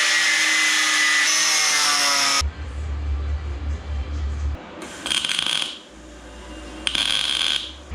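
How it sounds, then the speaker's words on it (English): A power tool cuts off nuts for welding on a drift build: a loud, harsh whining cut for about two seconds, then quieter clanks and scraping with two short bright bursts of grinding. "I'm going to cut these off and I'm going to weld them inside of this"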